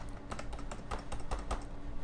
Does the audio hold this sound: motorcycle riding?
no